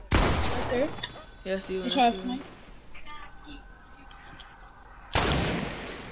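Sniper rifle shots in a video game crack out sharply at the very start and again near the end, with a brief spoken voice and clattering game sounds in between.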